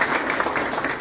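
A gathered crowd claps for the committee president at a Dr. Babasaheb Ambedkar Jayanti celebration, a brief, loud burst of massed applause heard close.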